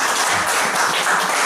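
An audience in a church breaks into applause, a dense, steady wash of clapping hands filling the room at close range, with no one speaking over it.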